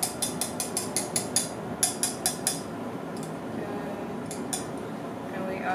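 Whisked eggs being mixed into banana bread batter in a bowl: a quick run of rhythmic clinks of a utensil against the bowl, pausing and resuming briefly, then a quieter stretch with a couple of final taps.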